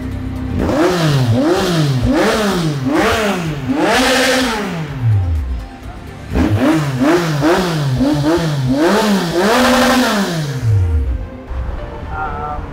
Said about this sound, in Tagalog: Mas marinig nyo lang yung growl ng makina, not the bass itself, at walang punit sa dulo.